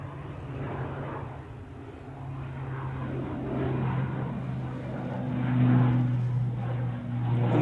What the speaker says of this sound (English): Another lovely prop departure